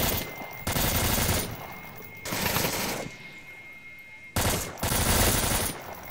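Bursts of automatic gunfire in the Onward VR video game come in several loud, sustained volleys separated by short pauses, close and dominant.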